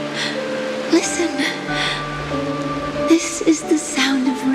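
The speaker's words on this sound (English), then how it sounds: "This is the sound of rain." Steady rain falls in the Honkai: Star Rail game world, a soft continuous patter heard beneath breathy voices and a sustained musical drone, with no single drops standing out.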